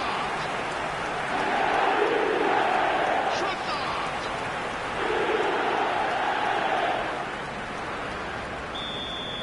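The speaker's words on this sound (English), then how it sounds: "Now the crowd are demanding that they just finish this off." A stadium crowd in the eFootball 2026 video game swells and chants in broad waves, its roar rising and easing twice, with a faint high electronic tone appearing near the end.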